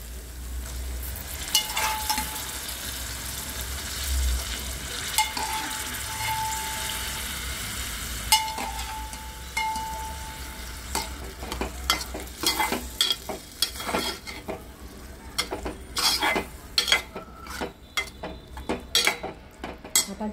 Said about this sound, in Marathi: आता आपण यामध्ये जे शिजवलेले जी चवळी आहे ती ॲड करायची।